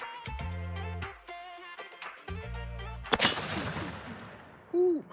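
A .45-70 rifle fires a single loud, sharp shot at a painted steel safe, its boom decaying into noisy reverberation amid other steady tones and a brief voice at the end.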